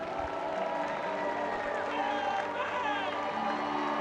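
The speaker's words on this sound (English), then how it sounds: "A nice packed-out crowd tonight ahead of this semi-final of the League Cup." A packed stadium crowd murmurs steadily before an Arsenal v Manchester City women's League Cup semi-final, a dense continuous wash of distant voices with no distinct cheers.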